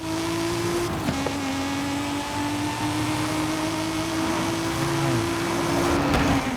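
A 2JZ-swapped NASCAR car with a 1260 hp build cruising at speed on a highway in Forza Horizon 5, its engine droning at a steady high pitch with a brief shift dip and rising strain near the end.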